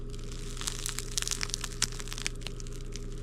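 Someone chews crusty slightly wheat sourdough bread close up, a run of small crisp crackles and crunches over a low steady background hum.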